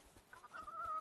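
Clucking of a chicken in the Dinkum video game, a few soft rising calls building into a louder, sustained squawk near the end, with no talk over it.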